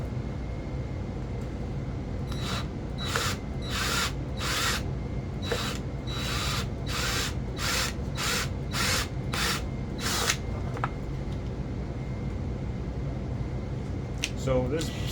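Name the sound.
drill with cobalt step bit drilling stainless steel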